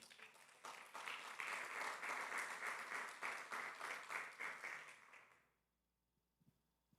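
Church congregation applauding during a sermon, a dense sustained wash of many hands clapping for about five seconds, then fading quickly into near silence with a few faint knocks.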